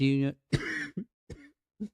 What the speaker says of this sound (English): I'm really sorry for the coughing the mic.